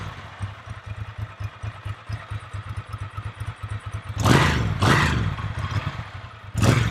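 A Ducati Monster 620 runs after being started following timing-belt work, a steady low engine rumble at idle with two sharp revs toward the end; loud and close, no talk.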